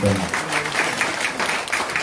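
Congregation at a watch night church service clapping loudly in a dense, continuous burst, with a voice briefly heard at the start.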